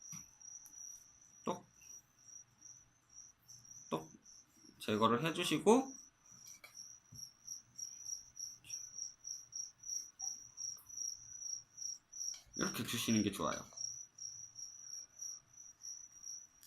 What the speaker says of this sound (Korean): 귀뚜라미는 다리에 가시가 많기 때문에 이렇게 잡아서 뒷다리를